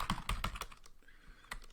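Rapid typing on a computer keyboard, a quick burst of clacking keystrokes followed by a pause and a couple of scattered taps, close and fairly quiet.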